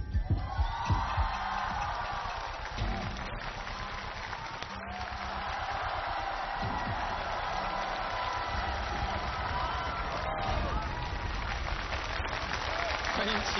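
A large studio audience at a televised choir competition final claps steadily throughout to welcome a special guest onto the stage, a dense, sustained wash of applause with voices mixed in.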